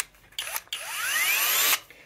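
A Xiaomi cordless drill whirs close by in two short bursts, then a longer run whose pitch rises as it speeds up, stopping abruptly before a quiet tail.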